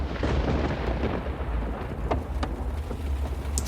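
Heavy rain pours steadily with a deep rumble of thunder underneath, a dense, loud storm bed with a few sharper drops and cracks, used as a sound effect in a Hindi audio drama, no voices.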